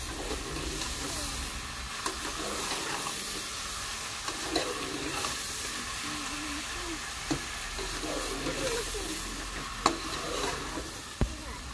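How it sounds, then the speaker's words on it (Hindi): Mutton is stirred and mixed in a cooking pot over a steady hissing sizzle, with scraping stir movements and occasional sharp clinks of a spoon against the pot throughout. "ओकर बाद वहाँ मटन डाल देबो संगवारी हो, और ओला अच्छे से मिक्स करबो और ढाक देबो।"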